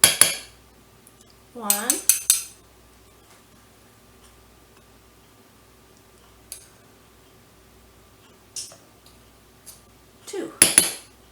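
Metal spoon clinks and scrapes against a bowl while measuring flour for a fudge pie, coming in a few short clattering bursts separated by near silence, with a brief spoken word.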